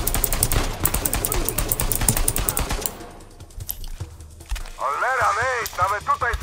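Rapid gunfire popping like fireworks in the video game Uncharted 4, a dense burst of cracks that drops away midway. Tonal game sounds and voices follow.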